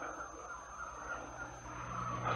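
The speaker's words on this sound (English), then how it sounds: "The flamingos. The birds." A flock of attacking flamingos rendered as a radio drama sound effect: a dense, continuous squawking and honking of many birds, fairly loud and alone.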